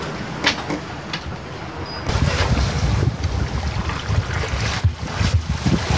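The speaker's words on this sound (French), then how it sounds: "là maintenant on a un bon vent, là, 15 nœuds, 16 nœuds là" A steady 15 to 16 knot wind buffets a sailboat at sea. Continuous rushing gusts and microphone wind noise mix with the wash of waves against the hull, with no voices.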